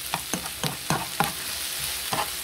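Onions for jägerschnitzel fry in a pan under a constant sizzle, broken by a regular series of scraping stirs about every third of a second, then a pause before a final couple of strokes; close and alone.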